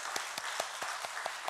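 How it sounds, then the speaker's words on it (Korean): Welcoming applause from a church congregation during a Sunday service, heard as a faint, slow, regular run of about seven distinct claps spaced evenly apart. "우리 환영의 박수 하겠습니다"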